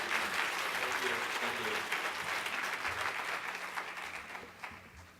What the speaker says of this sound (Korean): 샘팍 전도사님 뜨거운 박수로 환영해